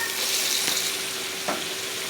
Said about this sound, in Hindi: तो ये देखिए व्यूअर्स, चिकन हमारा फ्राई होना स्टार्ट हो गया है।